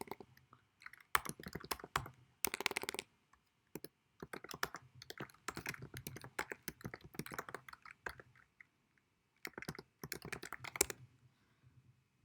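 Soft clicking keystrokes on a computer keyboard enter an email address, coming in quick irregular runs with short pauses, close and faint in an otherwise quiet room.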